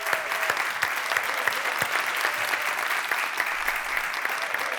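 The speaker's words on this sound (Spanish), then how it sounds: "Por favor, un aplauso." An interview-show audience applauds Diego Peña, steady and full clapping from a crowd with sharper individual claps standing out, sustained throughout.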